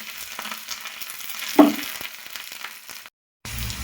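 Curry leaves crackle and sizzle in hot tempering oil for a gongura pulla kura, a steady close fry with one sharp pop midway and a brief silent gap near the end.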